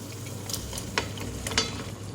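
Boiled potatoes hit a pan of spiced yogurt masala, giving a soft, steady sizzle with a few sharp clinks and stirring scrapes near the middle.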